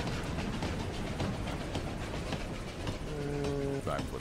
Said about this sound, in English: He's gonna get hit by the train.